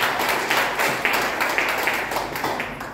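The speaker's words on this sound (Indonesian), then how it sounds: "Beri tepuk tangan bagi Tuhan Yesus" A church congregation claps for Jesus, a roomful of hands beating in a fairly even rhythm of repeated bursts that fades slightly toward the end.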